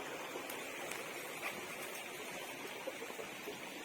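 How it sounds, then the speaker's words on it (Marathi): Steady broadband rush of a small waterfall splashing nearby at Raireshwar in Maharashtra, continuous and even with no talking. "बघा हा"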